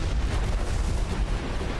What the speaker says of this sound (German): Ich wusste, dass es explodiert